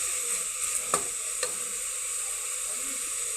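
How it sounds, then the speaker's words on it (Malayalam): Ginger and garlic sizzle in hot oil in a pan, a steady close frying hiss broken by a few sharp taps and scrapes of a spoon stirring, with no talk. "ഇഞ്ചി വെളുത്തുള്ളി ഇതും കൂടി നല്ലോണം ഇളക്കി"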